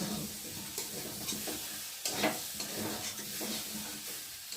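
Masala fries in oil in a pan while being stirred for an egg and taro curry, a steady close sizzle broken by repeated scraping strokes of the spoon, moderately quiet with no voices.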